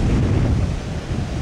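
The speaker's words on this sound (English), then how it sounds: "Henley Beach, actually." Beach surf and strong wind at Henley Beach, South Australia, a loud close roar of breaking waves mixed with heavy wind buffeting, brief and continuous with no voices.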